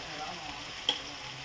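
Tomatoes and mint fry in a pan for egg biryani, a steady close sizzle with a single brief clink or stir partway through.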